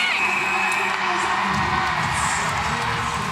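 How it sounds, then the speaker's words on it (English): Dense netball crowd at a Super Netball preliminary final between Vixens and Fever, cheering, whooping and shouting continuously in a loud, sustained roar that swells slightly through the stretch. "The crowd has just lifted another level altogether."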